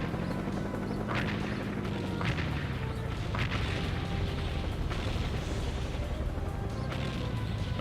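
Area-of-effect explosions in the PS2 tank game Seek and Destroy go off repeatedly as sharp booms at irregular intervals over a constant engine rumble and battle noise, with no talk.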